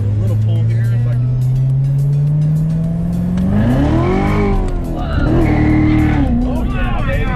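A car with a supercharged LT4 engine, the same unit as the ZL1, pulls hard, its engine note rising steadily and climbing again after a shift, loud and close from inside the cabin.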